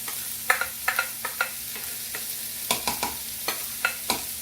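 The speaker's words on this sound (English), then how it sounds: "Let's toss this around with our mushrooms and onions." Buckwheat is tossed with mushrooms and onions in a frying pan, giving a steady soft sizzle under a series of quick, close spatula scrapes and clicks in loose rhythm, with no voices.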